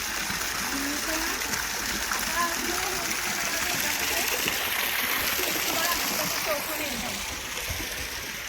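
Water from a farmhouse borewell pours and splashes in a continuous rush, with people talking faintly beneath it.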